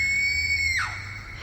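A woman's scream is used as a sound effect in spoken story narration: a single loud, high, sustained shriek that bends downward and trails off within about a second, with no speech.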